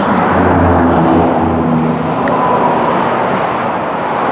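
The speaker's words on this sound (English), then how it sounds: "you can look down through there and you can see the highway traffic" Steady roar of highway traffic moving along the northbound and southbound lanes of US 65 at the MO CC diverging diamond interchange, a continuous broadband wash of passing cars heard from above with no single vehicle standing out.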